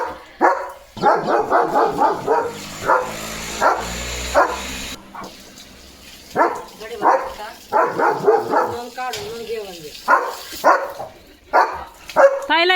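A German Shepherd barks repeatedly at another dog outside, loud close bursts of barks and yips in clusters with short pauses and some whimpering between.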